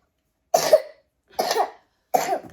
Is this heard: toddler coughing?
yes